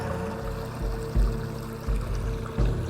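Water flows calmly and continuously, a soft, even wash at low volume with occasional muffled low swells. Nobody speaks.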